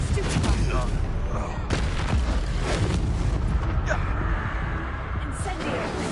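Spells cast and striking during a fight in the video game Hogwarts Legacy, dense booming impacts and bursts over a constant roar of battle, with a voice speaking through the clash.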